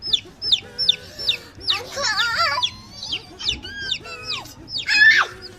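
Young chicks cheep close by in quick, high, falling peeps, many tumbling over one another in busy clusters, with a person's voice mixed in among them.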